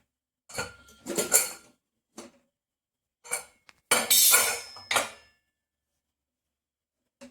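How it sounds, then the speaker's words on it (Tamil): A pressure cooker lid being opened after the whistle settles: a series of loud metallic clanks and scrapes in uneven bursts, with short silences between them and a final bright clatter near the middle. "இப்போது குக்கர் மூடியே திறந்துடலாம்"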